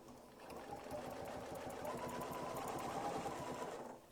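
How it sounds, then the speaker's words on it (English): A sewing machine stitches a quilt block in one steady, fast run, its close rhythmic needle chatter and motor hum continuing evenly for about four seconds before stopping. "just stitch right down outside of the boundary"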